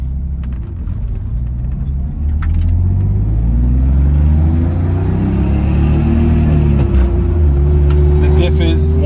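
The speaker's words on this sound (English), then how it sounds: "The diff is whining. You can hear it. It's making a little bit of noise." A BMW E36 M3 on the move, its worn differential whining as a thin rising tone over a loud, steady drone of engine and road noise inside the car.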